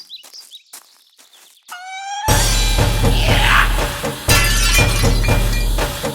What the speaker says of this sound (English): we found her in the kitchen, smashing dishes, one at a time